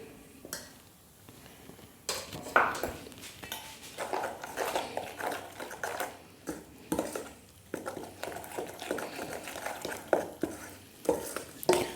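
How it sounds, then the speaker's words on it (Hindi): Spinach being stirred and beaten with gram flour in a pan, repeated scraping strokes of a spoon against metal with soft sizzling between them, close and moderately loud. "तो इसको 2-3 मिनट के लिए अच्छे से फेंट लेंगे।"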